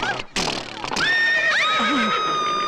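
A horse whinnies loudly and close by in a comedy film scene, with a sharp rising cry followed by a long wavering neigh and faint hoof clatter, with no talk over it.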